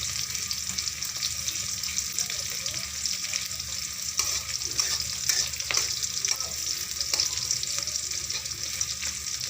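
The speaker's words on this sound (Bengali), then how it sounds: "তারপরে এর মধ্যে দিয়ে দেব আলু" Potatoes sizzle in hot oil with fried chilies and onions while a utensil scrapes and stirs them, irregular clinks and scrapes over a constant frying hiss.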